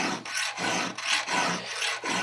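A hand file rasps across the chain of a Stihl 034 AV chainsaw in steady back-and-forth strokes, about seven in two seconds. Each harsh, gritty stroke is close and clear, with brief gaps between.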